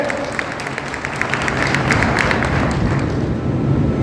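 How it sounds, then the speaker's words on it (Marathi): Applause from an audience at a birthday felicitation ceremony in Loha, Nanded, a steady broadband patter of clapping that swells slightly midway and holds through, with faint murmuring underneath. "उभा टाका, टाळ्या वाजवा."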